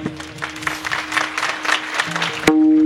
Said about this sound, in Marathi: एकदा टाळी वाजवा.